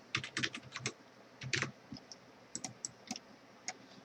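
Computer keyboard keys typed in short bursts of crisp clicks, a quick flurry followed by scattered single taps, close and fairly quiet with no voices.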